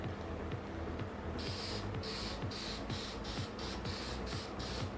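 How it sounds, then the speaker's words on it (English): Short, rhythmic bursts of a spray paint can hissing close by, coating plastic shoulder armor, repeated about a dozen times over a steady low background hum. "And now it's time to spray them up."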